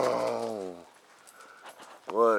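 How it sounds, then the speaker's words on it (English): A dog whimpers and yips in a high, wavering cry up close, breaks off into quiet rustling, then lets out another sharp, loud whine at the end. "What a crazy dog."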